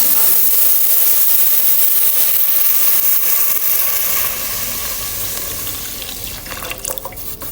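Milk bubbles and hisses steadily in a pot while making payasam, a constant frothy seething that fades slightly toward the end, with no voices.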